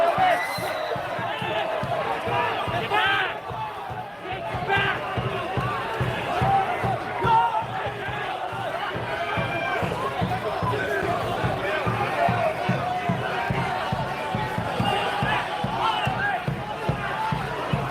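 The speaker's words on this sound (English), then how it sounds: "This crowd is chanting the name Novak." Large crowd of supporters chanting the name of Serbian tennis star Novak Djokovic outdoors in Melbourne, Australia, a loud rhythmic chant with steady beats and clapping-like pulses throughout.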